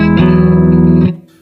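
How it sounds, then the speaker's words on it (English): An electric guitar played through the clean channel of a Blackstar Amped 2 amp rings out as a loud, sustained chord that swells for about a second, then cuts off. "here's a clean channel"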